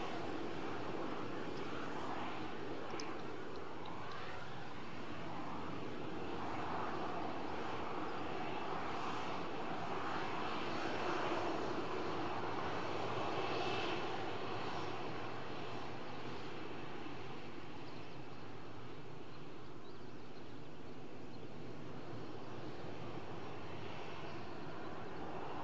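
Jet2 airliner engines rumble at Malaga Airport before takeoff, a steady distant roar and whine holding for the whole stretch and swelling slightly in the middle, heard alone without voices.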